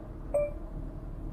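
A single short electronic beep from the voice assistant in a Kia Mohave The Master, clear and fairly close, sounding once over a quiet low hum, then fading out.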